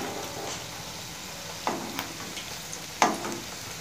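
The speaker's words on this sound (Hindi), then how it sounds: "पकौड़ों को हम एक साइड से हल्का क्रिस्पी होने तक फ्राई करेंगे" Cabbage pakoras made without gram flour or refined flour sizzle steadily as they deep fry in hot oil, with a soft continuous crackle and a couple of brief clinks from a spoon or slotted ladder, no voices.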